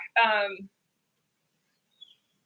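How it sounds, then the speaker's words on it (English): A single bird call, a short bright chirpy burst of stacked tones up close, followed by silence and a faint brief chirp later, with no talking. "you hear that bird?"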